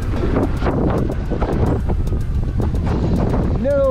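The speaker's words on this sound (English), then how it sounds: "Ooh, it's windy." Heavy wind buffeting a microphone on a street in Mansfield, Ohio, a constant low roar with gusty rumble throughout, ending with a brief rising tonal squeal.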